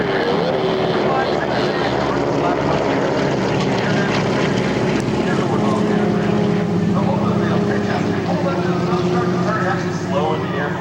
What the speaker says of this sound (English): Kevin's going to take his yellow wing, SNJ aircraft, fly away from the ground